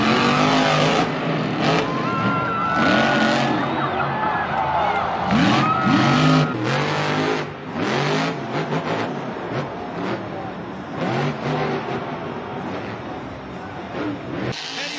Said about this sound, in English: Behind the wheel of his Monster Jam truck,